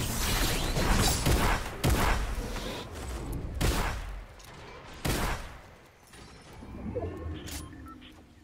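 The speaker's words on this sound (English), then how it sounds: "Stop shooting me." Gunfire in the video game Fortnite, a dense burst of repeated shots and sharp cracks through the first half, easing into scattered mechanical clicks and a quieter stretch later.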